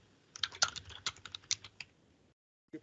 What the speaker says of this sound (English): Ooh, keyboard.